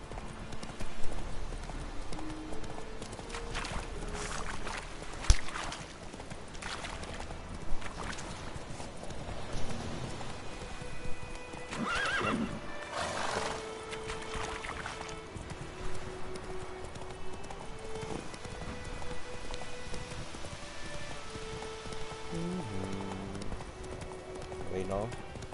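Roach the horse gallops in The Witcher video game, a steady clip-clop of hooves running throughout with occasional louder thuds, while someone talks over it and game music plays.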